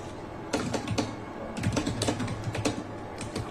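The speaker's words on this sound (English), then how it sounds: "It's like he's trying to be threatening through his typing." Hard, heavy keystrokes hammered on a computer keyboard in fast irregular bursts, close and loud, with brief pauses between clusters of clacking.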